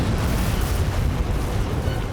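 A volcanic eruption roars continuously with low rumbling and a dense crackle of small bursts and explosions, loud and unbroken, with no voices.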